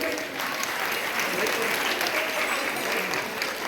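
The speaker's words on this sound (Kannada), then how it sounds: "ಜೋರಾದ ಚಪ್ಪಾಳೆಯಲ್ಲಿ" Loud, sustained applause from a large crowd, steady throughout with no pauses.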